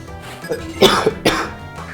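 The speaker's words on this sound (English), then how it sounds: "Sorry for the coughing" A person with a cold coughs two or three times in quick succession, close and fairly loud, with a rough throat-clearing quality.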